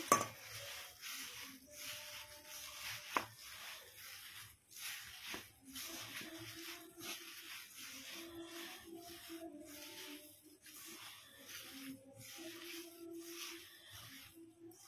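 Hands knead and mix soya pakodi batter with rice flour, making soft, wet squishing and stirring sounds in an irregular rhythm, close and fairly quiet.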